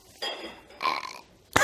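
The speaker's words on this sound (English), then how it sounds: "Who burped?" Two close, drawn-out burps in a row, followed by a sharp sudden sound at the end.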